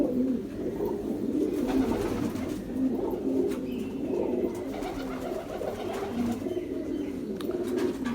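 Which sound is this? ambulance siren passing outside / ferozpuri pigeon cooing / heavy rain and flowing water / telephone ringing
ferozpuri pigeon cooing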